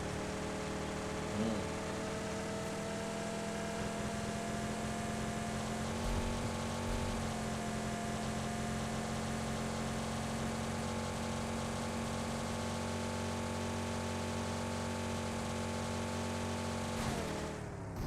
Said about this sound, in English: Sound கேக்குது ரயிலா? Train sound தான்.